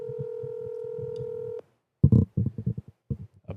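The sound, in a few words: phone dialing and ringing out on a call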